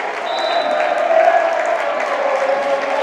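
Basketball fans at a college game in the Woodruff PE Center applaud and cheer during an Emory run against Rochester, a loud continuous wash of clapping and crowd noise with a whistle tone near the start.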